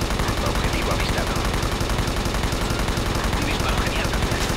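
Constant gunfire in the video game Ghost Recon Advanced Warfighter 2, a dense unbroken rattle of automatic weapons and battle noise that fills the whole stretch at a steady loud level.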